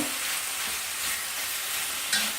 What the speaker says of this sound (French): bien remuer pour que la cuisson soit homogène sur tous les mincés de bœuf